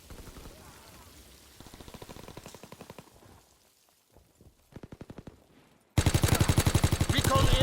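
Rapid bursts of gunfire in Call of Duty WW2, sharp repeated shots in clusters, quieter at first and then a loud sustained volley near the end.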